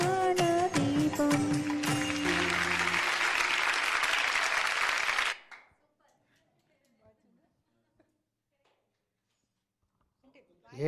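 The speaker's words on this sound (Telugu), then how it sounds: "ఇద్దరు ఆడవాళ్ళు పాడగానే అంతమంది చప్పట్లు కొట్టేస్తున్నారు" An audience in Kala Maruthi Hall breaks into loud, dense applause after two women sing a medley, with a voice briefly at the start; the clapping lasts about five seconds, then cuts off into near silence.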